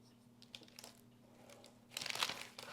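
A sheet of parchment paper is handled and crinkled in a quiet kitchen, soft scattered rustles building to a louder crumpling burst near the end, close and faint overall.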